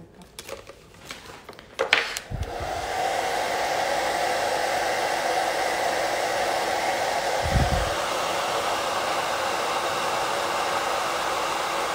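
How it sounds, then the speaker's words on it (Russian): During a nail manicure class, a hair dryer switches on after some brief handling noises and then blows steadily and loudly, with a constant rushing hiss to the end. "Нужно подуть феном."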